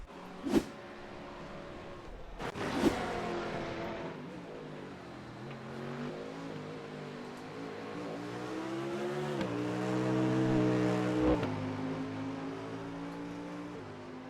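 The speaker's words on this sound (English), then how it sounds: "The engine is still running" A GT3 race car engine idles and hums at Suzuka after the car has pulled over, a steady low tonal drone that rises slightly in pitch at moments, with two sharp clicks near the start.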